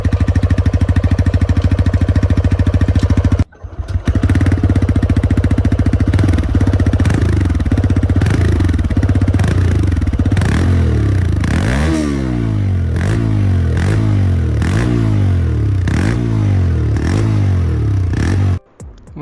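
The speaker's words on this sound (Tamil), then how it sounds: "இப்போ நான் வண்டி ஸ்டார்ட் பண்ணுறேன். அந்த எக்ஸாஸ்ட் சவுண்டு எப்படி இருக்குது அப்படிங்கிறத நீங்கள் கேட்டு பாருங்கள்." A 2024 TVS Raider 125 motorcycle with a single-piece exhaust starts up and runs, a loud, close engine drone with a steady idle and repeated throttle blips rising and falling, ending abruptly.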